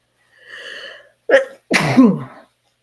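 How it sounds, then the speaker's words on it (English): A single loud, close sneeze: a drawn-in breath, a sharp catch, then the explosive burst trailing off, followed by silence. "And I have to sneeze."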